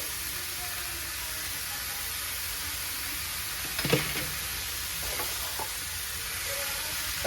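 Chicken with garam masala sizzles steadily in a pan, a constant frying hiss throughout, with a few brief stirring scrapes and clatters around the middle.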